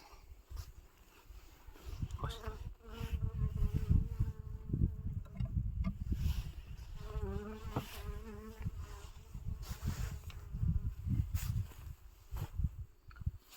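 Honeybees at an abandoned apiary hive in winter give a steady, fairly close insect buzz with rising and falling hum, with some rustling and handling noise throughout.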